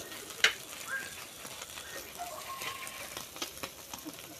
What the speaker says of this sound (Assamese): আজি ফাৰ্ষ্ট এই টাৱাংখনত মাছ ভাজিছোঁ